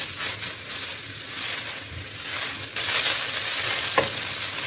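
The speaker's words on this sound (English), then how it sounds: "I increased the heat to medium heat now, and we're going to fry this for 5 minutes." Minced fish frying in a pan over medium heat, giving a steady loud sizzle with stirring scrapes throughout and a jump in intensity partway through.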